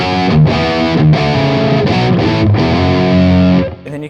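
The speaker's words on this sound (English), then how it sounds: "One of my favorite sounds is blending that middle pickup in the neck together" A Gibson 1959 Les Paul Standard Reissue is played with the middle and neck pickups blended. It gives a loud, overdriven run of chords and notes through distortion that rings briefly and then cuts off near the end.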